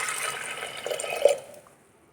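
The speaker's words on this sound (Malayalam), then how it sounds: "2 കപ്പ് വെള്ളം ഒഴിച്ച് കൊടുക്കുന്നുണ്ട്." Two cups of water poured into lentils for a palak parippu curry make a short, faint splash and gurgle that fades out within about two seconds.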